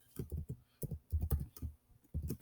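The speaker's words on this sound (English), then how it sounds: "We can just type these in." Keys clatter in short irregular bursts of typing on a computer keyboard, close and fairly clear, with no talking over them.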